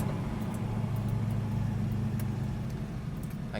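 An LS3 V8 in a 1970 Chevrolet Malibu Sport Coupe with a six-speed, heard from the cabin as it accelerates, makes a loud, steady low engine rumble with road noise throughout.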